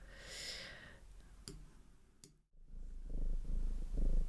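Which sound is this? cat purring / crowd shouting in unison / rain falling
cat purring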